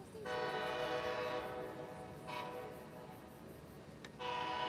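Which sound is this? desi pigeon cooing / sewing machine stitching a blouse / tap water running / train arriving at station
train arriving at station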